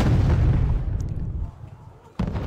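Artillery units fire in Wargame: Red Dragon. A dense, rumbling barrage rolls steadily, then fades. A sharp new burst cuts in near the end.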